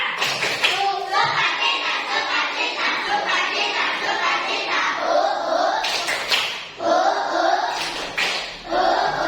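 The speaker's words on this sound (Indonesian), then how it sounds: "Tepuk sukacita" A class of young schoolchildren performs the rhythmic 'tepuk sukacita' clap chant, patterned hand claps and taps under lively chanted voices, ending with a few sharper bursts.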